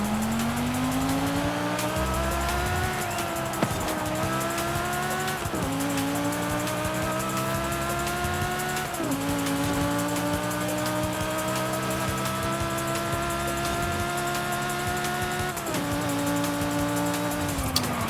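A car engine in Forza Horizon 5 holds a loud, close, continuous whine while racing, with pitch climbing steadily in each gear before dropping sharply at every shift, about five times, and no talk.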